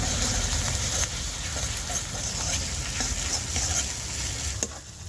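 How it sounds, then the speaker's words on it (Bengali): Ginger paste, with garlic paste, sautés in a hot pan as a dense, loud, continuous sizzle with occasional stirring scrapes. No one speaks. "দেড় চামচ আদা বাটা দিয়ে দিলাম এবার দু মিনিট ভালো করে কষিয়ে নেব"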